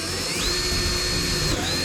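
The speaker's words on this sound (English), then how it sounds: "you can drill the holes for your remaining seat struts" A power drill whirs steadily at close range drilling holes for kart seat struts, its motor holding a constant high-pitched buzz with a brief dip partway through.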